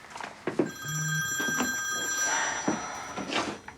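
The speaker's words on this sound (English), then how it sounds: "Who the hell forgot to turn their phone off?" A telephone rings loudly with bright electronic trills that repeat several times, close and clear, interrupting a quiet indoor scene.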